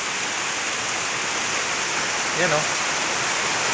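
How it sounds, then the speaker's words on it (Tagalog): Heavy rain pours in a steady, dense hiss that fills the scene, and a voice briefly speaks over it near the middle. "Ang lakas ng ulan."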